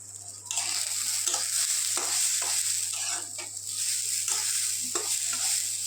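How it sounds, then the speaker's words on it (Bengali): Moong dal dry-roasting in a pan for khichdi, grains rustling and scraping as they are stirred steadily, with a soft continuous sizzle-like hiss, close and without talk. "দেখো মুগের ডাল ভাজা করছি খিচুড়ির জন্য"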